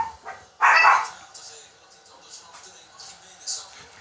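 Small dogs at home let out a sharp bark up close, then softer yips and whimpers trail off, with people talking around them.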